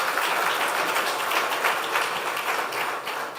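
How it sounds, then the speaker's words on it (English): Audience at a corporate half-year results announcement marking a 25th anniversary gives a steady round of applause, moderately loud and sustained, fading slightly at the end. "let's clap for Safaricom at 25"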